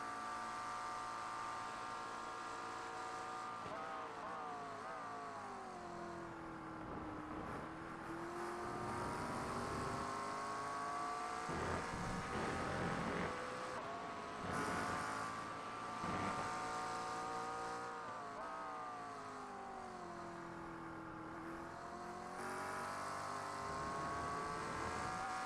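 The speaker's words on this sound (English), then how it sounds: "Listen to these cars get up to speed and listen to the different sounds they all have." GT3 race cars accelerating at Road America in the iRacing video game, engines rising and shifting through gears in a long, continuous sweeping drone, several cars overlapping at moderate loudness.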